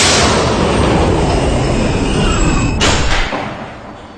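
An R160B D subway train running along the E line, a loud continuous roar of wheels on rail with a high squealing tone, easing slightly toward the end, heard from on board.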